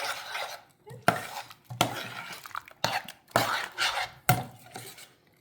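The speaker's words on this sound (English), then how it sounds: "And we're just going to stir that all together." A candy apple jello salad is stirred together in a bowl, giving repeated scraping and clinking strokes at a steady, moderately loud rhythm, close up and with no talking.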